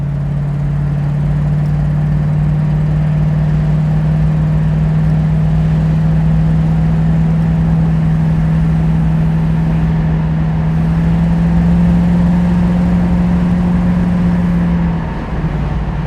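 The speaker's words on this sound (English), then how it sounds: "Transmission shifts perfectly." A 1973 Ford Mustang convertible with a 302 engine drones steadily under acceleration from inside the car, its note rising slowly before a brief dip near the end as the automatic transmission shifts, with no talk.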